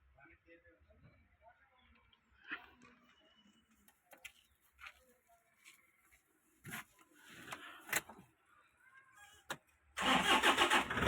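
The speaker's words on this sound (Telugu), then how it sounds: "स्टार्ट करो बानेट खोल" A Toyota Innova G car's engine cranks and catches near the end, a sudden loud surge after a quiet stretch of faint clicks, handling noises and voices in the background.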